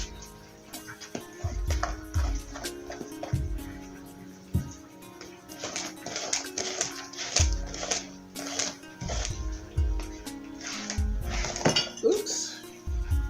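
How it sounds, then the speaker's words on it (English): A spoon works thick walnut brownie batter in a bowl, with repeated scraping knocks and clinks against the sides in an uneven rhythm, close and fairly loud, alongside some soft background talk. "I'm gonna have to use some elbow grease to actually mix this because it is so thick."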